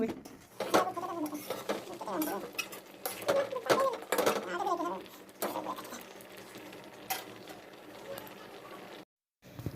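A coconut milk and jaggery mixture being stirred in a pan, with a spoon clinking and scraping against the metal in irregular strokes, close up, while someone talks over it.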